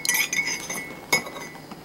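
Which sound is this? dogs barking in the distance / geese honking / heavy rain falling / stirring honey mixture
stirring honey mixture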